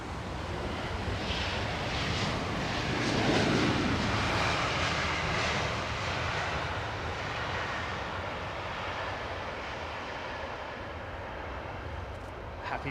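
An aircraft arrives at London Heathrow Airport runway 27R, a broad engine roar swelling at a distance and slowly fading, steady and moderately loud with wind noise.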